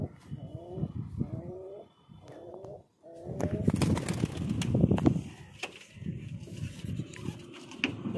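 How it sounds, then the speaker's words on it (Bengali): Madras homer pigeons coo in a loft, several soft rolling calls repeating in the first few seconds before giving way to a busier, noisier stretch of fluttering and shuffling. "একটা আপনাদেরকে হুমার মাদা কবুতর দেখাচ্ছি"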